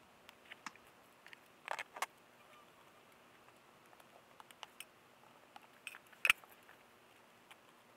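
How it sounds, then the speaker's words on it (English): Faint, scattered metallic clicks and ticks from pliers twisting wire to secure a dogwood bonsai in its pot, quiet and irregular with a few sharper snaps. "Secure with wires and tighten with pliers."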